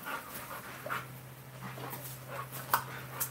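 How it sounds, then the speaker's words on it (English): A bully-breed dog pants and whimpers close by, with short bursts of breathing and scuffling over a steady low electrical hum. "Every time a dog hits it or passes by"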